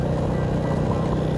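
A Rusi SSW Nova150 motorcycle engine with a DB killer fitted drones steadily while riding, a loud, even hum with a constant low rumble and no pauses.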